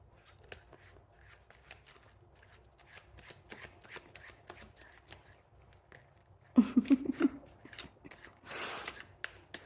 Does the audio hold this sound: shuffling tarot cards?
yes